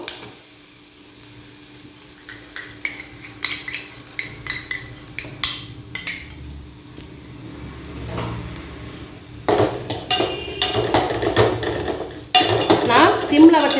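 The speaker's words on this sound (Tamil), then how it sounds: "சிம்மில் வச்சு தான் இதை வறுத்துக்கிறேன் பாருங்க" Desiccated coconut toasting in melted ghee in a pan over low heat, with a spoon scraping and stirring in quick repeated strokes, then a louder, steady sizzle of frying swelling up close near the end.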